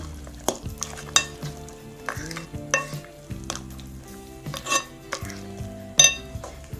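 Easter kulich dough ingredients being stirred and mixed in a bowl, with repeated knocks and clinks of a utensil against the bowl at an irregular rhythm, close and fairly quiet, with no talking.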